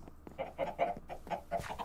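Video game chickens in SkyFactory V cluck in a rapid, uneven series of short calls, fairly quiet and with no talking.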